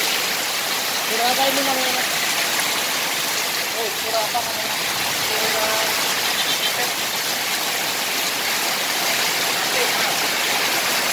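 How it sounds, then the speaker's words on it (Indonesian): Very heavy rain pours steadily in Jembrana, Bali, beside a temple on slippery, waterlogged ground, a dense constant roar throughout while someone talks briefly over it. "Jadi situasinya sangat hujan deras."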